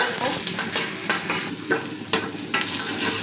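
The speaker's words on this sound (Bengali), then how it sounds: "এখানে আমি বরবটি ভাজা করবো" Yardlong beans frying in a pan with turmeric and salt, a loud close sizzle broken by repeated scraping stirs every half second or so.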